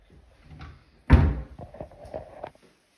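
A kitchen cupboard door shuts with one solid, close thud, followed by a few softer knocks and rattles as the doors are handled.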